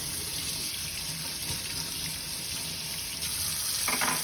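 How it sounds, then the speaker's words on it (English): Hot tap water runs steadily into a sink while dentures are rinsed under it, a continuous close hiss and splash with a brief change in the flow near the end. "And then we're going to run it under the hot water."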